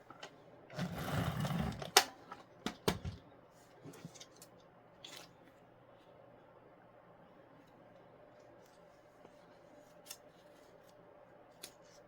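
Scissors cutting craft material for a scrapbook kit: a short rapid run of snipping, then a few isolated sharp clicks of the blades, close but quiet against a low room hum.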